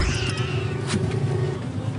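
Cat on a farm with about a thousand cows, meowing briefly at the start against a steady, noisy barn background.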